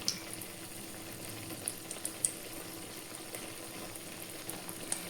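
Banana flower fritters frying in hot oil, a quiet, steady bubbling sizzle with scattered faint pops and crackles throughout, heard alone without talk.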